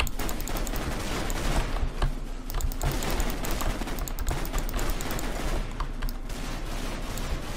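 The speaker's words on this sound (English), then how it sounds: "Let's toss a grenade in there." Rapid, dense gunfire bursts and blasts from a Counter-Strike-style map played in Minecraft, loud and continuous with no pauses across the stretch.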